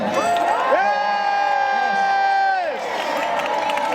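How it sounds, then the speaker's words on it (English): A large crowd cheers loudly in a sustained roar, with whoops and shouts rising over it before the noise tapers off. "Let them hear how loud you can cheer, ladies and gentlemen."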